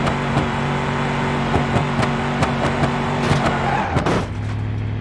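A Ford Raptor off-road SUV in a video game drives across an off-road map, its engine droning steadily and loudly up close, with a few sharp knocks and a brief surge near the end.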